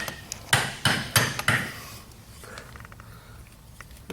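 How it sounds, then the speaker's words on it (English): Nylon hammer tapping on a horseshoe while shoeing an event horse: five sharp, close strikes in a quick, steady rhythm, then quiet background with faint handling noises. "Nylon hammer."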